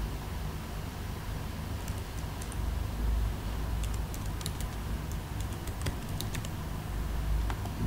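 Fingers type on a computer keyboard while logging in as admin, a run of quick, light clicks and clacks clustered in bursts over a steady low hum, close to the microphone with no voices.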